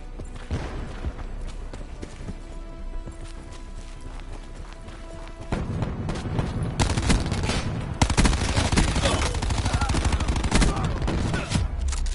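Gunfire in the video game Call of Duty: Black Ops 4 rattles in rapid repeated bursts, quieter at first then louder and denser after the midpoint, with footsteps and game effects mixed in.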